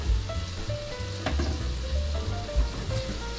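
Garlic-infused oil and cooking liquid, poured off from Gulf shrimp preparation, sizzle in a pan with a close, bubbling hiss, low rumbling burble and occasional sharp crackles.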